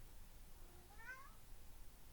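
A cat gives a single faint meow, short and rising then falling, heard alone over low background hiss.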